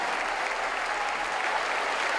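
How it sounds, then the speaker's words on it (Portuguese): Church congregation applauding, a continuous, fairly close wash of many hands clapping without pause. "vamos aplaudir mais"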